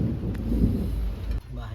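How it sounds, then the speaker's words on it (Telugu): Rumbling thunder rolls under falling rain during a Telugu home cooking session making gongura chicken curry, a brief low roar that cuts off abruptly near the end. "మెరుపులు ఉరుములు వాన."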